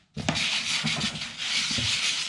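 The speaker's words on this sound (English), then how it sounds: "very light sanding just to take off any boogers, any raised grain, any hairs." Light hand sanding of an old wood floor finish, scuffing off raised grain and hairs before another coat: a steady, close, continuous rubbing scratch with a few brief strokes, heard alone.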